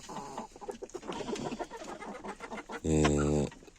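Hens cluck and chatter in a busy, uneven stream nearby, then a louder, drawn-out rooster-like call rings out near the end.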